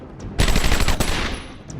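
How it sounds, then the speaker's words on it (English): Automatic gunfire in Batman: Return to Arkham Asylum, a sudden loud burst of rapid machine-gun shots that runs for about a second and then trails off into echoing reverb. "Dude, what are you shooting at?"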